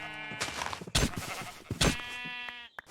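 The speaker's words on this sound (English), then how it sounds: "So we'll just go ahead and kill a couple of these sheep." Sheep in the RLCraft video game bleat repeatedly, close and clear, as several wavering, nasal bleats overlap with brief broadband hits between them, with no talking.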